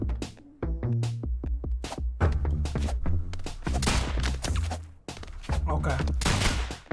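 Video game gunfire with bouncing bullets in the game ROUNDS, loud rapid bursts and fusillades in close succession, repeated throughout.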